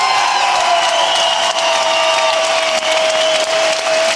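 A Hamburg boxing crowd of several thousand spectators applauds and cheers, a loud continuous wash of clapping and voices that holds steady throughout.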